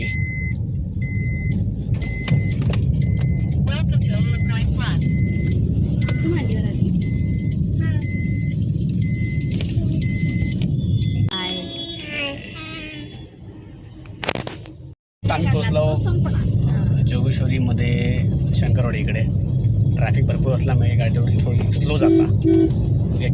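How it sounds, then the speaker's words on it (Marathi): Inside a booked Ola cab on the way to the Rani Baug zoo, a steady engine and road rumble runs under voices and repeated high beeping tones, fading briefly midway before the drone returns. "चला मित्रांनो आम्ही निघाला आमची ओला गाडी"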